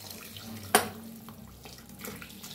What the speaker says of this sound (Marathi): गरम पाणी वतूया.